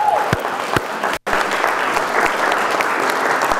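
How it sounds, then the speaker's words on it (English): Dense, steady applause from an audience at a citizens' preparedness meeting, filling the whole stretch apart from a brief dip in the middle, with faint crowd murmur. "so a big round of applause"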